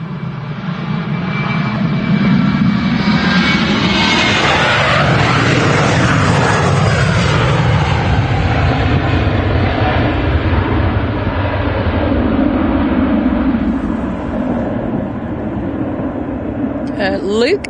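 A Jet2 Boeing 737 jet roars down the runway on takeoff at Manchester Airport, a loud sustained engine roar with rising and shifting whine that gradually fades, while a person talks over it.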